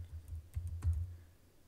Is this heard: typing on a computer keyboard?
yes